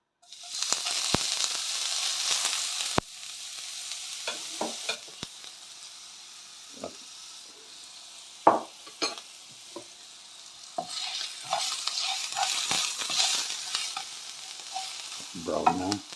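Garlic sizzles and fries in a hot pan as a utensil stirs it, with steady frying hiss and intermittent scraping, clinking stirs; close and fairly loud, ending with a low clatter.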